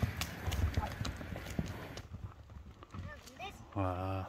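A horse walks on hard ground, its hooves clip-clopping in a steady rhythm close by while people talk over it and a brief whinny-like sound rises near the end.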